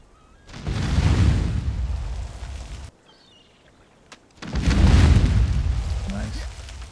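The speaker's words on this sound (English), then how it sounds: "That was a nice explosion." Explosions in the PvP survival game Conan Exiles: two heavy, rumbling booms, each swelling and sustaining for about two seconds, loud and close, with a short quiet gap between them.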